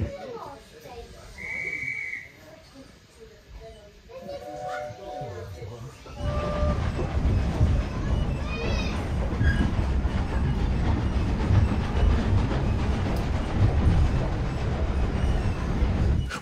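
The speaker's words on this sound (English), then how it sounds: "I could hear a chuff, chuff, chuff, chuff of the steam engine." A steam train on the Bo'ness and Kinneil Railway in Scotland rumbles loudly along the track with a steady rushing roar, after a quieter start with a brief whistle-like tone and some talk.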